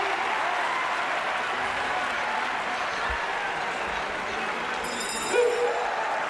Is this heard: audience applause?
yes